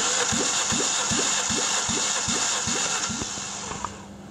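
A 2002 Toyota Corolla E12 with a 1.4-litre 16-valve 4ZZ-FE engine cranks on the starter during a compression test, giving a steady, even series of rhythmic chugging pulses over a continuous mechanical whine.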